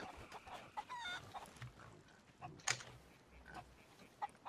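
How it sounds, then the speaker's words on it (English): A flock of chickens in Sea of Thieves clucking on an island, scattered soft clucks and squawks at low volume, with one sharper cry standing out. "Oh, I found a lot of chickens."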